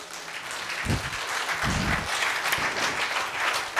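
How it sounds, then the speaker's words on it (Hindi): A person claps their hands in steady, continuous applause, loud and close, with no talking. "एक बार आप ताली बजा दो यार"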